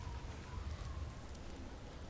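A storm in the Alfheim desert in God of War Ragnarok sounds as a faint, steady wash of wind and rushing noise with a low rumble underneath and no clear breaks.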